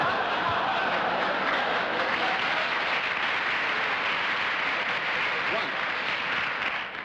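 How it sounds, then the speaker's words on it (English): Studio audience on a 1959 television panel game show applauding, a dense, steady wash of clapping that holds at full strength for several seconds before easing slightly at the end. "Cheap applause, if ever I heard it"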